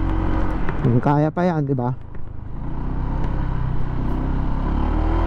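A motorcycle engine drones steadily on an uphill ride as the throttle is worked. Someone speaks briefly over the engine noise, and the engine sound continues constant and close.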